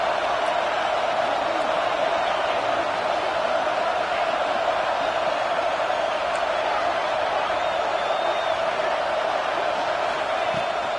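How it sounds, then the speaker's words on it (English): A home crowd roars steadily through a college football game, a dense, sustained wash of cheering and noise from a large stadium audience with no break in the din. "Man, this crowd really affecting the football game."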